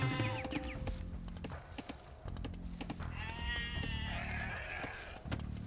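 Sheep bleat repeatedly in Age of Empires II, layered over busy game music and effects, with a few clear wavering cries standing out in the middle and near the end.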